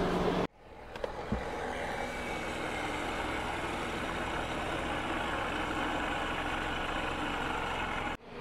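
A Runva EWV6000 portable electric winch winds its cable off-road, giving a steady motor whine and hum that starts abruptly after a brief pause, holds evenly for several seconds, then cuts off.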